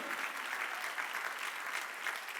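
A church congregation applauds during a worship service, a short burst of dense, even clapping from many hands filling the room at steady loudness, with no clear talk over it.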